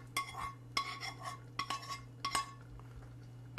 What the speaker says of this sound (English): I'm ready to just scrape this right into my sauce